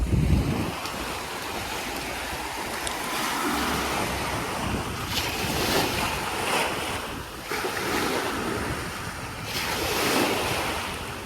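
Strong wind buffeting the microphone in heavy gusts, mixed with the rush of surf, loud and continuous without talking.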